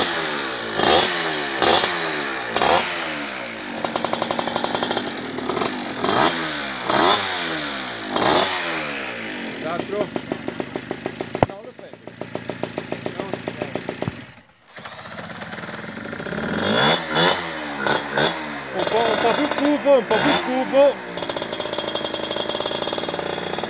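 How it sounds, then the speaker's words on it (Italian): Small Piaggio and Gilera scooters rev hard and pull away in a drag race, their engines rising in a run of repeated climbing whines. A loud, buzzy drone continues through a brief drop around the middle before more close revving, with no talk. "Ora il Pinta e Luca partono da laggiù"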